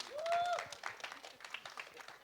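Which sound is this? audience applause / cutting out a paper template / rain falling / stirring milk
audience applause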